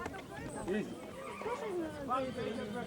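A horse whinnies in short, wavering bursts, repeated a couple of times at close range, while people talk over it.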